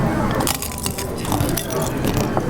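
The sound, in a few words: biting into a fake glass bottle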